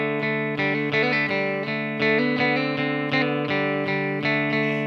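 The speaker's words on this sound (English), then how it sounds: "it's got this drone, the way it pedals or drones." Distorted electric guitar playing an outlaw country riff over a sustained droning pedal tone, loud and close, with repeated rhythmic phrases and no talking.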